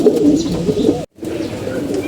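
Domestic pigeons kept in a Bengali loft coo continuously in a rich low throaty murmur, several birds overlapping close by, with a brief silent gap midway.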